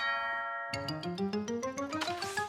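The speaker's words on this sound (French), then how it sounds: "la sonnette retentit encore" A ringing tone fades out, then a bright doorbell chime sequence climbs upward in quick steps, with a busy musical backdrop in a children's cartoon.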